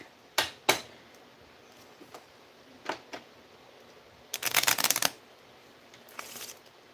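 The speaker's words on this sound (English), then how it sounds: "shuffle a few more times" Playing cards shuffled in a few separate bursts: two sharp riffles near the start, softer flicks, then a longer dense riffle and a final quieter one, close and otherwise quiet.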